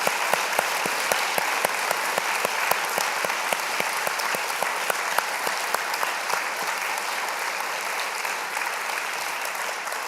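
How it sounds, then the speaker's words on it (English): A graduation ceremony audience in a university theatre gives sustained applause, dense, even clapping from a large crowd with crisp individual claps standing out, steady for the full ten seconds. "I would like to now invite the graduates to join me in a round of applause for all of your supporters and family members"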